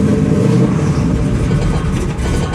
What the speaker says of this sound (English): A little bit of a belt squeal there.